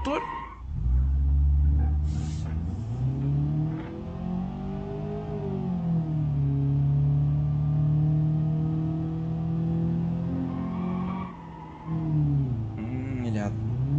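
A car engine in the driving game BeamNG.drive revs up and down in smooth, rising and falling whines over a constant rumble, with a voice talking over it.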